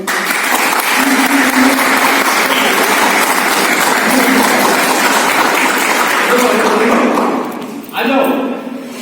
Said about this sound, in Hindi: ताली बजाओ उसे।